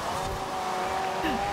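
A McLaren P1 slides across a wet track in Forza Horizon 4, giving a steady engine drone with a squealing tire whine. Near the end the tone bends downward, and the whole passage stays fairly soft.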